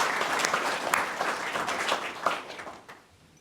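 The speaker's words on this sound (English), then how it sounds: "It's unusual for a funeral, but I think a little clap would be in order" Mourners at a funeral service give a short round of clapping, dense and fairly close, thinning and fading away over the last second.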